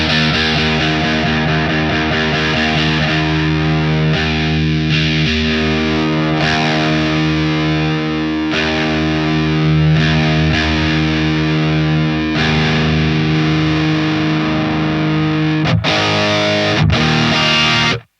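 Electric guitar played through a Seymour Duncan Diamond Head distortion pedal with the gain turned down a little, in an 80s shred style: sustained distorted chords and notes ring steadily and loudly, then a brief pause and a final strum near the end.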